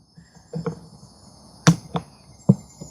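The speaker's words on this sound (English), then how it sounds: "There's a screwdriver and a hammer, and it comes right out" Screwdriver and hammer knock out pre-drilled holes in a plastic planter container, a few sharp isolated taps and pops spaced apart over a quiet outdoor background with faint insect chirping.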